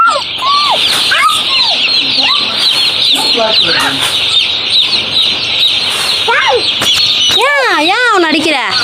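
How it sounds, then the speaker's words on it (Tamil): Chickens and newly arrived chicks at a poultry farm cluck and cheep busily as they eat feed. The calls come loud and close in quick, overlapping bursts, with a voice speaking briefly among them. "கோழியெல்லாம் தீனி சாப்பிட்றாங்க."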